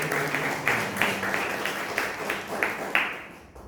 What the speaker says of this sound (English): Again, our applause for.